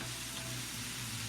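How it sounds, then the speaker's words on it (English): Potatoes stir-frying in a pan for a lemon and thyme potato hash, a steady close sizzle with faint crackles and soft stirring scrapes throughout. "And just stir frying this all together."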